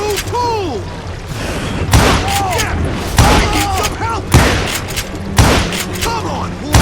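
Loud, heavy gunshots in Call of Juarez Gunslinger, a western shooter, booming at irregular intervals about a second apart, with shouted voices between and over the blasts.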